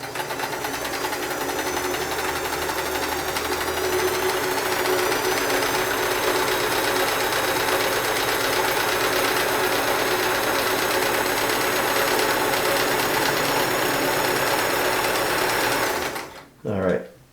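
A Sears Kenmore 158 series free-arm sewing machine runs a 3-point zigzag stitch in one continuous, steady, close whirring buzz that stops abruptly near the end.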